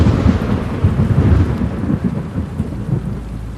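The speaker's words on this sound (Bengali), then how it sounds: "ঠিক সেই মুহূর্তে আকাশ বিদীর্ণ করে নেমে এলো ভয়ঙ্কর এক বজ্রপাত।" Heavy thunderstorm sound effect in a Bengali horror audio story: a deep, sustained thunder rumble rolls over steady pouring rain, loud and close, with no voices.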